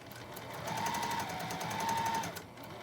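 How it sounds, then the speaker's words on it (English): Steady whirring run of a sewing machine stitching quilt squares corner to corner, close and continuous with a fast mechanical rattle and a slight pause in the middle. "line up my square with the needle, the corner of my square, and just sew across it"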